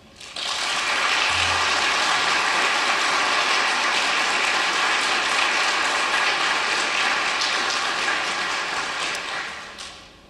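A university graduation audience applauds strongly, dense rapid clapping that swells in quickly, holds loud and even for about nine seconds, then fades out.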